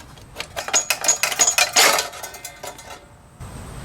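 Metal shroud wiggled off a Tecumseh small engine on an SE Woods mini bike, a close run of sharp clinks and rattling metal taps that builds then stops, with a steady hiss after.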